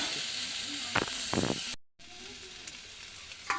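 Spices and ingredients being fried down (kosha) in a pan give a steady close sizzle and hiss, with a brief break and a few stirring scrapes and sputters.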